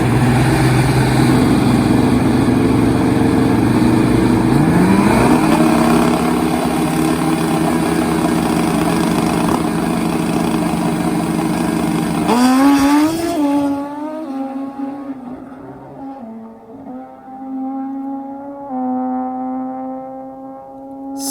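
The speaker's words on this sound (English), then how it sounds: "He's on the turbocharged Kawasaki KZ as he gets set to take on the GS of Mark Ramirez." A turbocharged Kawasaki KZ drag motorcycle racing down a drag strip, a loud, sustained engine roar that surges and rises in pitch, then fades as it moves away into the distance.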